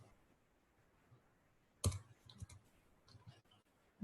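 A computer mouse clicks a few times, one sharp click followed by fainter scattered clicks in a quiet room.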